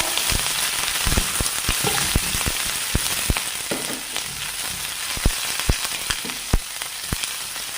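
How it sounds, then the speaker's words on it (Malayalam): Green chillies and curry leaves crackle and sizzle in hot oil in a pan, a dense steady frying hiss with sharp pops scattered throughout and light stirring, close and fairly loud with no talking. "ഇനി നമുക്ക് നമ്മുടെ ആ പച്ചമുളക് ഇട്ടു പച്ചമുളക് ഒന്ന് പതുക്കെ ഇളക്കാം"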